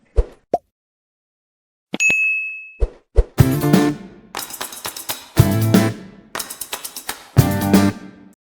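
A bright notification bell ding rings out once, set among sharp plops and clanging, cartoonish hits that follow in quick bursts.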